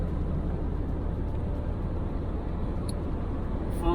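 Steady, loud low rumble of a coach cruising on the E05 motorway after leaving Hamburg, a continuous broadband road and engine drone from inside the cabin with no talk.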